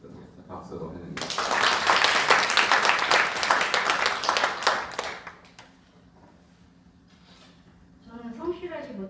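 Applause from a congregation at a Bible college graduation thanksgiving service swells into sustained clapping, holds for several seconds, then fades, and a voice speaks briefly afterward.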